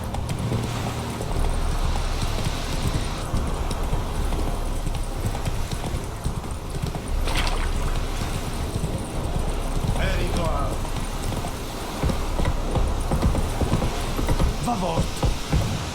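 Horse hooves clip-clopping at a steady galloping rhythm in The Witcher 3, a continuous loud pounding with a brief whinny-like sound partway through and game ambience underneath.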